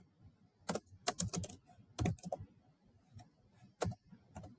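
Someone types on a computer keyboard nearby in quick, irregular bursts of soft key clicks with short pauses between them.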